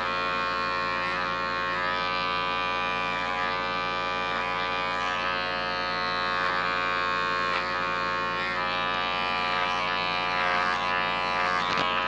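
An electric hair clipper buzzes continuously and steadily close by during a side haircut, with a strong even hum that persists throughout without talk.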